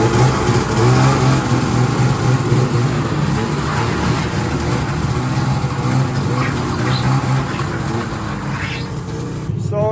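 A small ditch banger engine runs loudly and steadily up close, its uneven chugging drone continuing for several seconds before cutting off abruptly.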